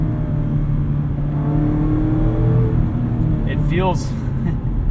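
A 2019 Mazda MX-5 Miata RF Grand Touring engine pulls hard under acceleration, a steady rising drone heard from inside the cabin, with a person briefly speaking over it.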